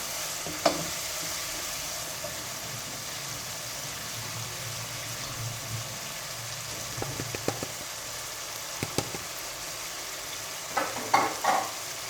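Steady low sizzle of food frying in a pan, with occasional sharp clinks and scrapes of a utensil stirring, no voices.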